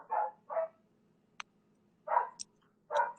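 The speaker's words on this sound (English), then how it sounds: "God, he won't stop barking." A dog barks in four loud, close bursts, two quick ones, a pause, then two more, with faint clicks and ticks between them and no talk.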